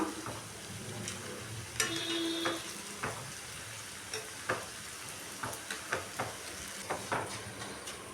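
Snack dough for a homemade mixture fries in a pan of hot oil, giving a steady sizzle with scattered clinks and scrapes of stirring, and no voices.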